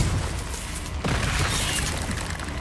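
Confringo blasting spell detonating in the video game Hogwarts Legacy, a dense rumbling burst of continuous loud blasts with a brief dip before another booming surge, no voices.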